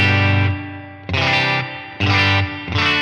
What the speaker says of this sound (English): there pops up my spring reverb, which I can have on or off